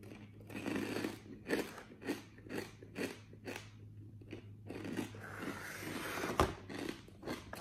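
Close, crisp crunching bites and chewing of a dried cauliflower keto snack, rhythmic munches repeating steadily for several seconds.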